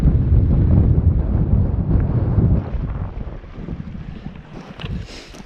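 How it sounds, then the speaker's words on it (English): Strong wind buffets the microphone outdoors on a hillside packrafting trip, a loud continuous low rumble that eases slightly partway through, with faint waterside noise beneath. "can you hear me over the wind?"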